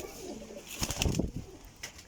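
Valuable breeder pigeons of the Teddy breed coo softly in a loft, a short low burst of cooing in the middle with faint rustling around it and no voices.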